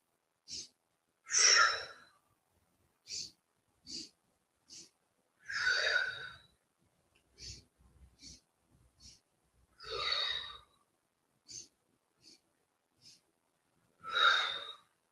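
Repeated audible exhales and breaths during a yoga warrior-flow breathing exercise, with several longer forceful sighing breaths and short sniffs separated by quiet gaps, close and clear.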